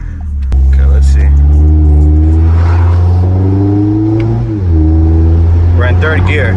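Toyota Camry with a pops-and-bangs tune, engine held loud and close in third gear, a sharp crack near the start, then a sustained droning rev that dips briefly and continues.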